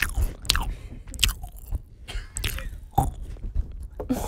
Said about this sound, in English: You have to chew with your mouth open too.